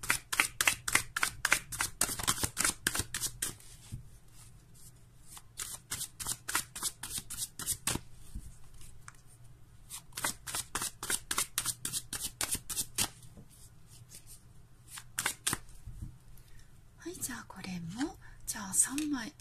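Tarot cards are shuffled by hand in rapid bursts of crisp riffling flicks, close and repeated with short pauses between, while a soft voice talks quietly alongside.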